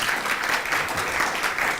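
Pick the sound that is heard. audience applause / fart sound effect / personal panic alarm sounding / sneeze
audience applause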